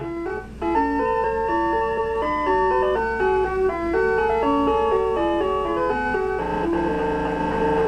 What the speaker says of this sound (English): we get to hear this this good theme, which is the surf theme of the game